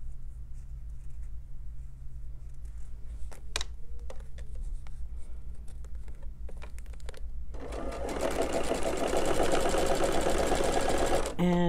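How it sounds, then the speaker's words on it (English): A sewing machine chain stitching quilt pieces runs loud and steady in the last few seconds, after quieter fabric handling and soft clicks, with a faint voice in the background. "I am again going to chain stitch."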